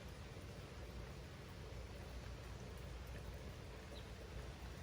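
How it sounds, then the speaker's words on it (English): Steady, faint rain on a spring morning in Georgia, a soft even hiss of falling drops that holds constant, with no voices. "It is 10 o'clock in the morning, and it is raining."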